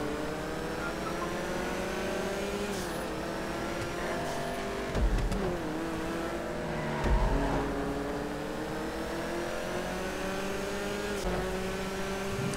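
Race cars compete in a multi-class endurance championship in GTA Online on PS4, producing a continuous loud engine drone with rising pitch and gear-shift dips, plus other cars close by and no talking.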